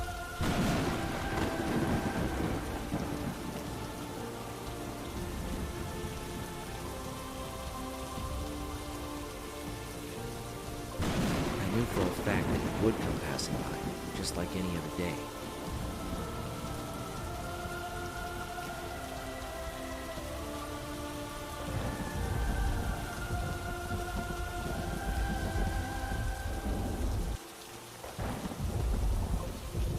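In the video game Murder Diaries, steady heavy rain pours down while rolling thunder rumbles through it in long swells, with a louder crack near the middle. A narrator speaks over the storm.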